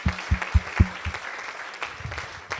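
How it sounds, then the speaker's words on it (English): An audience claps for a mentor who has come on stage at a theatre production event. The applause is brief and fairly close, with a few distinct sharp claps early on before it thins into scattered clapping. "Please give him a huge round of applause."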